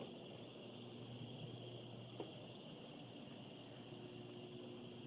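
Crickets chirp in a steady, continuous high trill as a sound effect, faint and unbroken throughout, with no voices.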